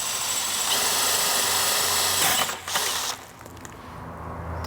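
A steady mechanical grinding whir of a drill boring out the metal pins of a lock on a 1978 Vespa P200E, loud and continuous, briefly dipping before resuming at a lower pitch.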